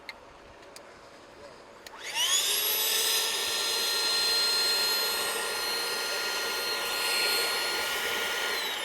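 An electric air pump starts after a couple of soft clicks and inflates a Tesla air mattress through its central nozzle, a loud, steady whining drone that holds for several seconds.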